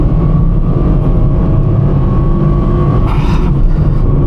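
A car labours in a low gear along a country lane, its engine producing a steady, loud, continuous drone with a rumbling low end and no voices over it.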